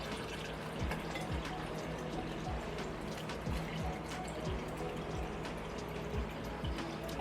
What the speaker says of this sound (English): And we're going to try to pour this in here.